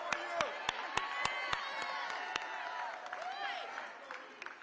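A rally crowd cheers and applauds for someone speaker, steady sharp claps at first over a continuous roar of voices and whoops, heard from a distance and fairly faint.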